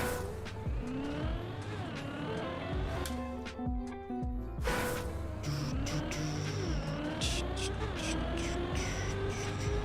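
A car drifts in a racing video game, its tires squealing over rising and falling engine revs in a loud, continuous run with sharp pitch sweeps as it slides through corners, and no voices heard.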